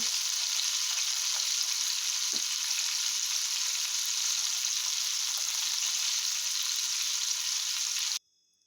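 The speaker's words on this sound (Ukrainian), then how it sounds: "З одної сторони рибка підсмажилася, я перевернула на іншу." Fish fries in a pan after being turned over, giving a steady, bright sizzle that holds evenly for about eight seconds and then cuts off abruptly.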